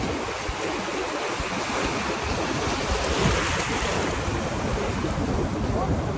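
Sea waves wash onto a Barbados beach in a continuous, loud, rushing surf with wind buffeting the microphone throughout.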